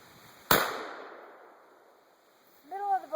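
A single sharp rifle shot fired at a bullseye target, close and loud, with a long decaying echo, followed by a brief voice.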